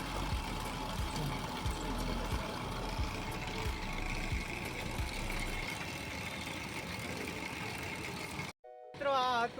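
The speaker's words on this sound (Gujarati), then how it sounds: "મોટર જ મૂકી દીધી છે આખી આખી જોઈ લે સ્પીડમાં વીટાતો જાય છે" An electric motor spins fast as it winds kite string (manja) in a Rajkot workshop, giving a steady mechanical whir with a low engine-like hum. The whir runs continuously, then drops out and gives way to a short burst of other noise.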